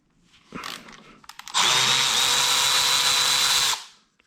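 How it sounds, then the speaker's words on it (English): Power tool whirring steadily for about two seconds as it unscrews a camshaft bolt on a BMW N55 engine, preceded by a few faint clicks and handling sounds. "Okay, let's unscrew it."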